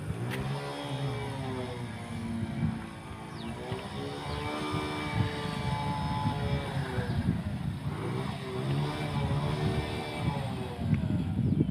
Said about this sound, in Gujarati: કેટલા ધુવાડા કાઢે મોટરસાયકલ.